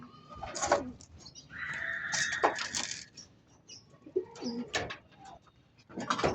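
Racing pigeons released from a loft in Mulanay, Quezon, with hens and young birds among them: repeated nearby cooing and short calls, bursts of wing flapping, and a few rustling movements, no talk.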